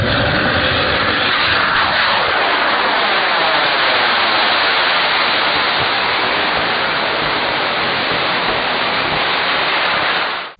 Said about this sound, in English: let's look at the first part where the rocket arcs over to the left at launch